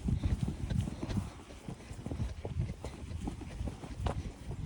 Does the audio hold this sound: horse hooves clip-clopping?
yes